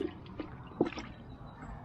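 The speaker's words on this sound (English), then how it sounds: "I'm going to put all my parts in a bucket of water here," Plastic paint sprayer parts from a Wagner Flexio 3000 dropped into a bucket of water: a few soft, quiet splashes and drips, with one clearer plop near the middle.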